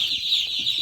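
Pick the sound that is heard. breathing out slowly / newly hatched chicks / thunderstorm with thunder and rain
newly hatched chicks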